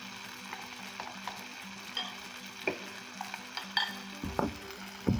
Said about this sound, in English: Now it's time for me to add my eggs.